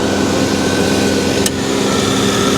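A 2.8 liter throttle-body-injected V6 in an Audi A6 Avant Quattro runs at a steady, loud idle in a salvage yard, its even hum broken only by a brief click.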